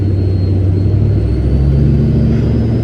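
Duramax diesel truck fitted with a 9 blade turbo sits idling, a loud steady low rumble with a faint high turbo whine running over it, close by and continuous.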